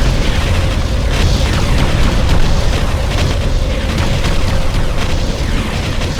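Dense, continuous battle explosions and booming rumble fill a real-time strategy video game, Ground Control, loud and sustained without a break.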